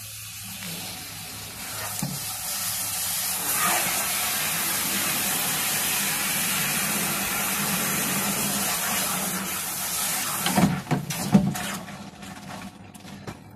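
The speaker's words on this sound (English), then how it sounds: "We'll spray paint it white, and we'll see how it all goes." White spray paint hisses steadily from an aerosol can onto a bike's original front forks, loud and close for most of the stretch, with a few clunks and shuffles near the end.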